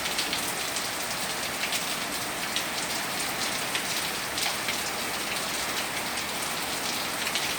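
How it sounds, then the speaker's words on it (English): Steady rain pattering on a surface, a dense continuous hiss with scattered brighter drops, no voices. "the rain's really starting to pick up"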